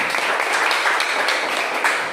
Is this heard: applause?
yes